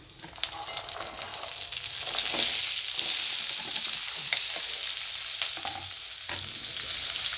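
Crushed fennel seeds frying in hot oil for egg rice, a continuous close sizzle with occasional scrapes and taps of stirring.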